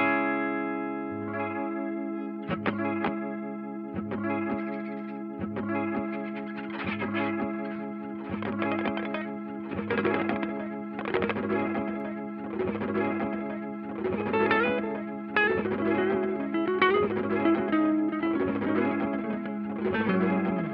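Electric guitar chords played through a Danelectro Reel Echo pedal, each strum swelling and trailing into repeating echoes, with a steady pulsing rhythm of struck chords layered over sustained ringing tones throughout.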